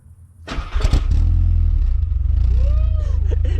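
A Mk2 Volkswagen Jetta engine, apparently cammed, cranks briefly, then catches and settles into a loud, steady, rumbling idle with a slightly lumpy beat.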